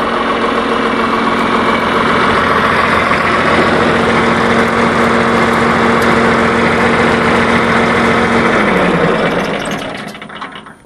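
A tractor engine, with some slop in its belt, idles with a steady low rumble for several seconds, then begins to wind down as it is switched off and fades near the end.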